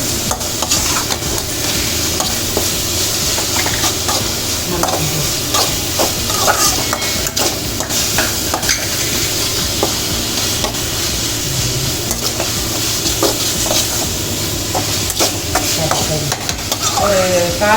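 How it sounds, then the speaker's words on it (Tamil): Small onions sautéing with ginger garlic paste in a pan for a fried potato dish, a steady close sizzle and frying hiss with frequent stirring scrapes and spoon clinks throughout, no talking. "இதெல்லாம் நல்லா வதக்கிடுவோம்."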